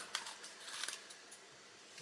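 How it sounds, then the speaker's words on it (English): Scissors snip through the plastic packaging of a parts pack for a 1:6 scale Mustang GT500 model kit, holding heavy engine parts, in a few short close cuts with crinkling between them. "I'm going to cut this with scissors rather than damage my cutting mat."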